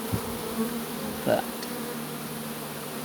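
Honeybees buzz around a hive in a steady low hum, with a brief louder burst as one passes close by; a single spoken word is heard.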